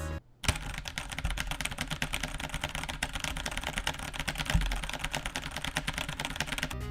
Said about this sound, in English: as long as you slam that keyboard as fast as possible